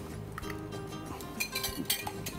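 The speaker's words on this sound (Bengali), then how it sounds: "ডিমগুলোকে আমি ফেটে রাখি।" Eggs being beaten in a bowl for chicken toast, a quick run of light clinks and taps of utensil against the bowl, close and fairly steady, with no talk.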